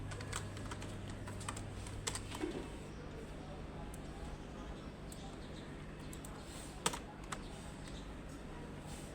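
Quiet, steady keystrokes on a computer keyboard while code is entered, light irregular clicks over a low hum, no voice, with one sharper tap near the end.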